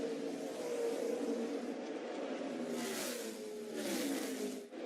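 NASCAR Truck Series race trucks roaring around Charlotte's oval, a loud steady engine drone that rises and falls as the field passes, with no talk over it.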